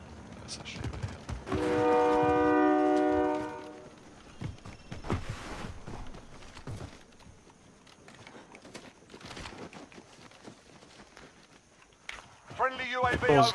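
In a video game, a sustained train horn blares for a couple of seconds, followed by scattered footsteps, clicks and other game sounds.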